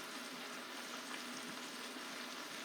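Green beans and mushrooms fry in a hot pan with a steady, dense sizzle that holds evenly throughout while being stirred, close and with no voices.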